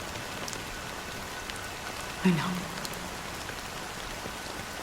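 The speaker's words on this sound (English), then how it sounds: "But it's still raining." Steady rain patters continuously in the video game Honkai Star Rail, with a brief soft voice partway through.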